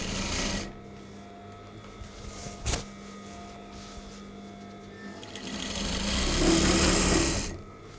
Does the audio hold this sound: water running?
no